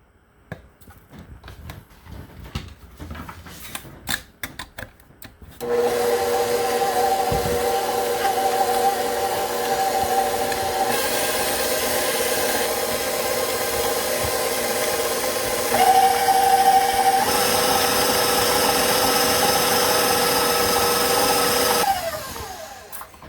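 An electric mixer beats an egg and vanilla into Linzer cookie dough. Scattered clatter gives way to a loud, steady whirring drone that shifts pitch slightly partway through and stops just before the end.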